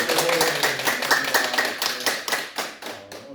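An audience at a Buddhist dharma talk clapping together in a quick, rhythmic burst of hand claps that gradually thins out and stops.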